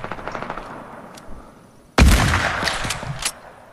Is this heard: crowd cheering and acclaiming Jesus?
no